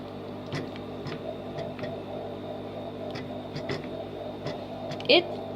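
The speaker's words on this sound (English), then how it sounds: "So now I'm just gonna mix it up in with the gelatin" A spoon stirs pureed pea baby food into gelatin in a bowl, making faint, irregular clicks and taps over a steady low room hum, with a slightly louder knock near the end.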